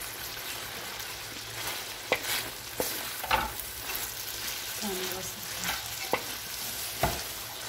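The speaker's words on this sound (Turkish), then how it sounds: "Böyle iyice karıştıralım. Etimiz iyice pişsin." Meat frying in a pan while being stirred, outdoors in Niğde on the first day of Bayram: a continuous sizzle with repeated scraping and clattering stirs at irregular intervals.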